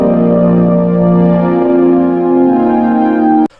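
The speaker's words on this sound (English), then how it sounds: "it's just a simple wavetable pad." A simple wavetable synth pad built from sub and basic waveform shapes, dry with no effects, holds one rich sustained chord alone at a loud, steady level before cutting off abruptly at the end.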